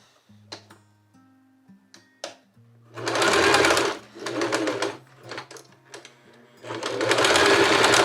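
A sewing machine runs a seam along a striped tablecloth in loud, sustained bursts with short pauses between them, after a few light clicks and taps at the start. There is little or no talking.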